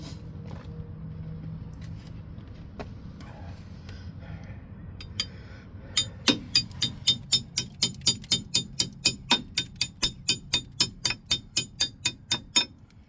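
A 1 1/8 inch wrench used as a hammer strikes the brakes of a Jeep Cherokee, giving a long, steady series of sharp metallic clanks at a regular quick rhythm, near and prominent, after several seconds of quieter scattered knocks and handling.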